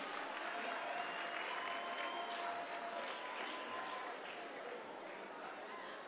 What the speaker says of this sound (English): Let's give the choir another big round of applause.